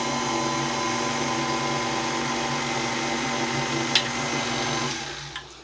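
Homemade spaghetti noodle dough of flour and salt is being mixed under a loud, steady mechanical whirring drone that winds down and stops near the end.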